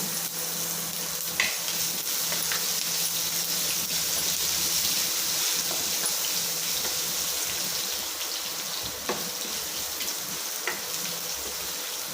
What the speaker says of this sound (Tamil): நல்லா பொரியட்டும் கருவேப்பிலை போட்டாச்சு